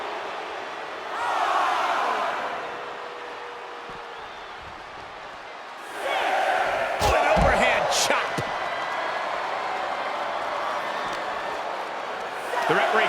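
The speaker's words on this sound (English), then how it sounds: "Kairi Sane getting the crowd riled up right now." A wrestling arena crowd cheers in rolling swells that rise twice to loud peaks, with thuds from the ring and a commentator talking over the roar.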